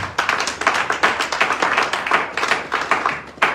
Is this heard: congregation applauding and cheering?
yes